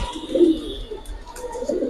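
Giribaz pigeons, a Bangladeshi flying breed kept in a loft collection, coo in soft low repeated phrases at close range, with faint background noise and no talk.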